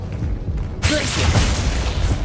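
A loud, abrupt magical burst from the Glacius freezing spell in Hogwarts Legacy strikes suddenly and sustains as a dense, icy crackling wash over game background.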